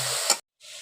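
Water poured into a pressure cooker holding mash dal, a brief steady splashing rush with a short sharp spike partway, then a gap and a softer continuing pour.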